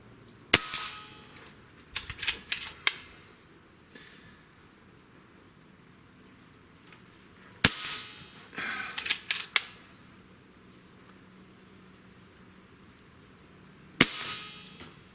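A JTS Airacuda PCP air rifle fires at a target: three separate sharp shots, each followed by a quick cluster of metallic clangs and impact knocks, with quiet pauses between them and no talking.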